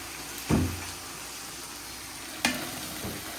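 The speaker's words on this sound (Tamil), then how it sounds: "இந்த மாதிரி நல்லா வதங்கினதுக்கப்புறம் புதினா, கொத்தமல்லி சேர்த்து நல்லா வதக்கி வைக்கலாம்." Onions, mint, coriander and tomato sautéing in a pan for biryani: a soft, continuous sizzle broken by two distinct stirring scrapes, heard close and without talk.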